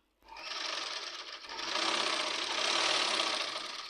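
Sewing machine stitching a fall strip onto a saree, a steady rapid mechanical whirr that starts after a brief pause, dips once and then runs on continuously and fairly close.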